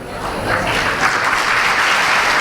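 Schoolchildren and guests clap together at an Independence Day celebration in a school hall, producing dense, loud, sustained applause that fills the whole moment without a break.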